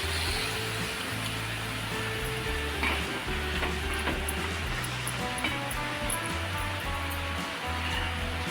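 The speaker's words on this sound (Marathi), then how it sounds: "आता आपण थोडंसं पाणी टाकणार आहोत म्हणजे भाजी शिजवत आपल्याला" Water splashes into a pan of hot mixed vegetables for a Maharashtrian panchras bhaji, setting off a loud, steady sizzle and bubbling hiss with stirring clatter that fills the whole stretch.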